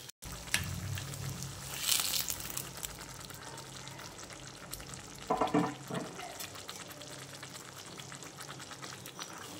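Fried capsicum and onion being stirred into a paneer masala in a pan, a low steady sizzle underneath with a few louder scraping and stirring bursts, close up and with no talking.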